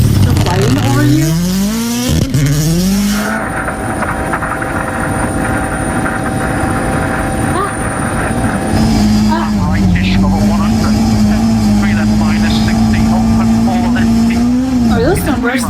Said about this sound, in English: That's why you have constant helicopters flying over you.